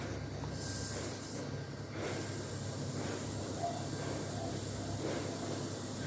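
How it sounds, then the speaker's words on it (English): Steady airbrush spray hissing from an air compressor while painting spots on a figure's biceps, a continuous soft hiss close by that swells after the first couple of seconds, with no talk. "my air compressor just turned off."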